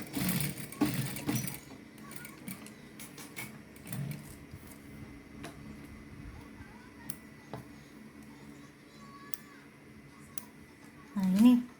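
A sewing machine stitching the placket of a men's shirt cuff, a steady mechanical whir and rattle running throughout, with talk over it at the start and near the end.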